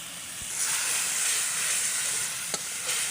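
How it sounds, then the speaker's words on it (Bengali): Ground spices, dry chili powder, turmeric and salt sizzle steadily in a hot pan for a Bengali rui fish do-piyaza, with a brief clink of a utensil near the end. "এখন হচ্ছে সবগুলো মশলা খুব ভালো করে কষিয়ে নেব"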